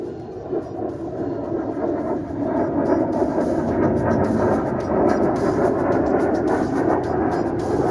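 Military jet from an Indian Air Force firepower demonstration diving on a bombing run, a steady loud broadband engine roar that builds slightly and holds throughout, heard from a distance.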